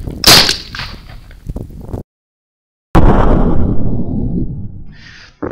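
Two loud, close shotgun blasts fire Federal number 4 shot, one through a cylinder choke and one through a full choke, each with a sharp crack followed by a rolling outdoor echo.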